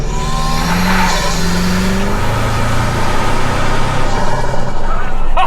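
A 2025 Toyota Tacoma TrailHunter longbed pickup drives with its engine and exhaust droning loudly and steadily from inside the cab, with a window down and a rising engine tone.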